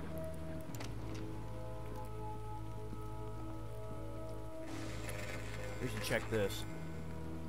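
Steady rain on a rainy night in the video game Lucius, a soft continuous patter beneath low droning game music, with someone talking over it.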